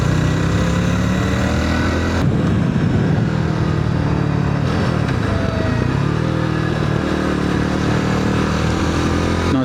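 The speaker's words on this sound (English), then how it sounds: "Nice little bit of pop in, typical single cylinder as you're backing off on the throttle." A BSA Bantam 350 single-cylinder motorcycle running loud and close, the engine note rising and falling with throttle and popping as the throttle is backed off.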